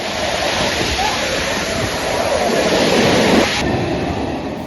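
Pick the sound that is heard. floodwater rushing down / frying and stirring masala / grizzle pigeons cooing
floodwater rushing down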